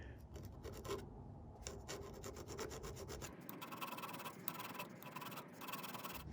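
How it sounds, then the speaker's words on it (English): A file rasping across the distributor cap points of a 1931 Ford Model A engine, giving a faint, steady scraping rub at close range that continues without pause. "So I filed all the points down, removing the edges."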